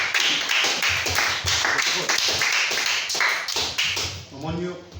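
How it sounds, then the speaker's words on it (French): Audience clapping in a church, a short run of distinct, fairly close hand claps ending in a ringing tone, with some voices mixed in. "Acclamez très fort pour elle."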